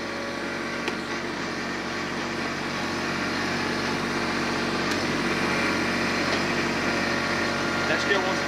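A tractor grapple set in float position scoots lightly across the ground, heard as a steady engine drone with scraping and faint clanks running continuously throughout.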